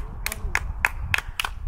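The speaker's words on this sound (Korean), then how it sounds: "박수를 치는데 힘있게 첫 번째 장단을" A group claps out a rhythmic pattern in sharp, loud bursts at uneven intervals, some strikes doubled, during an outdoor memorial walk, with quiet background noise between claps.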